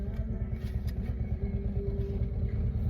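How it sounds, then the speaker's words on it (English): A motorcycle blaring loud music passes nearby, a dense low rumble with a rhythmic, bass-heavy pulse and a sustained tone running steadily under the engine throughout. "Somebody's on a motorcycle that really loves their music."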